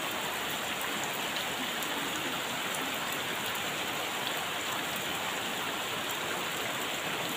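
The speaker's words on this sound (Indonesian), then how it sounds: "Alhamdulillah, sahabat ya, hujannya semakin deras," Steady, dense rainfall pours down without a break in a village, a constant hiss of heavy drops hitting surfaces close by.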